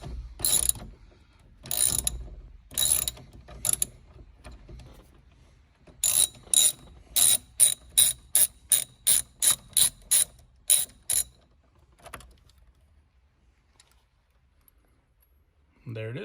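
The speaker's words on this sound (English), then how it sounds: "let's see how tight this bad boy is. Okay, so this takes a little bit of strength here. It is not a loose nut by any means" Ratchet loosening the steering wheel nut on a GTR during a wheel install: clusters of sharp, loud clicks, then a long steady run of evenly spaced strokes. Quiet follows after the clicking stops.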